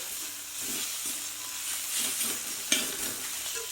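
Fish pieces for Bengali doi maach frying in a pan with garlic and ginger, a steady close sizzle and hiss with soft stirring scrapes and one sharp clink partway through.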